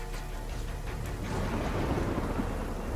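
A thunderstorm rumbles under steady rain, a low rolling roll of thunder building beneath a constant hiss of drops, with a sharp crack right at the end.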